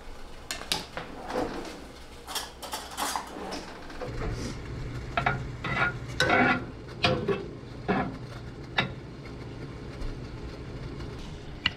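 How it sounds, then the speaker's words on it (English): Macaroni sauce ingredients are stirred and browned in a pot, with a knife scraping and clinking against the metal in irregular bursts over a low sizzle, sounding close and fairly quiet. "And then we just stir it. Brown it a little bit."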